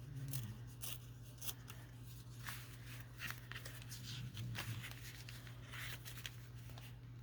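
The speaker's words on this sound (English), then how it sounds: "I want some little rough edges, so I'm gonna have to tear it." Paper being torn by hand for rough edges on a scrappy journal cover: faint, short crinkling rips recur over a steady low electrical hum.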